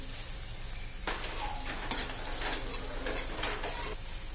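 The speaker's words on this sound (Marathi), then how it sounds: "आता मी त्याच्यात ह्या जो तीन लाल मिरच्या घेतल्या होत्या त्या टाकणार आहे त्याचबरोबर चिंच घालणार आहे" Three red chillies and tamarind go into browned frying onions in a pan, bringing a burst of sizzling and a few clinks and scrapes of a spoon against the pan, close and moderately loud with no speech.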